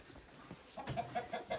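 Laying hens in a backyard coop give a few short, soft clucks in quick succession, fairly close and moderately quiet, with no talk over them.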